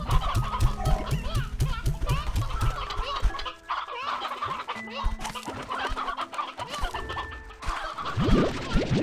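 Chickens cluck in a rapid, rhythmic run of calls on a farm in the video game Slime Rancher 2, loud and close at first, then mixed with busier game sounds and scattered chirps.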